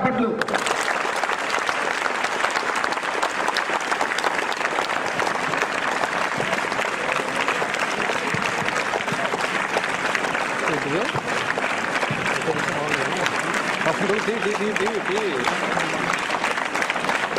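An audience at a college motivational speech event claps for the guest in dense, sustained applause lasting well over fifteen seconds, with a voice speaking faintly beneath it toward the end.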